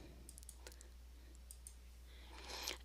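Soft plastic clicks from a few calculator keys being pressed one after another, faint and sparse against a quiet hum, with a brief cluster of taps near the end.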